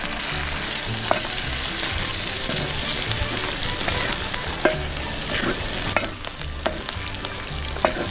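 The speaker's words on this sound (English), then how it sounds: "This stuff smells really good when it's cooking. You can see it's already starting to make some grease." Diskata cooking outdoors on a disk cooker, with seasoning sizzling in rendered grease and being stirred, a steady close crackling fry with scraping stirs and light clicks throughout.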